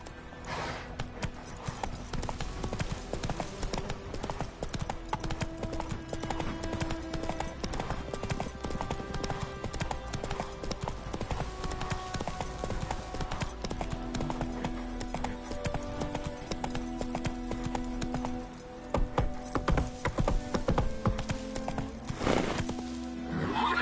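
In the Witcher 3 video game, a horse gallops with continuous rapid hoofbeats, loud and close, layered over game music and ambience, with a short whinny and a spoken line near the end.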